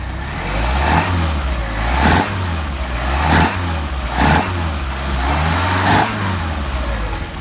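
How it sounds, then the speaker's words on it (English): A car engine fitted with German Motorwerks Solex carburetors revs repeatedly, rising and falling in about six close, loud pulls over a steady running rumble, with no talk. "we're going to rev it up and we're going to see what it sounds like"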